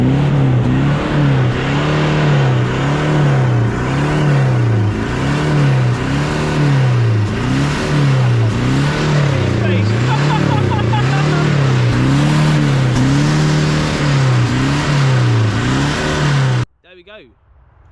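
A Toyota Prius revs loudly and repeatedly, its engine note rising and falling in a steady cycle. Rough noise rides over the tone for about sixteen seconds, then it cuts off abruptly.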